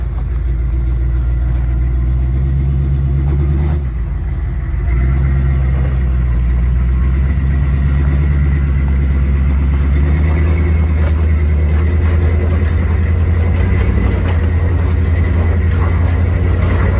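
A 500 HP Hemi-powered Jeep crawling off-road into a ditch and up its wall, its engine a loud, steady low rumble with a brief dip partway through and slight revving changes.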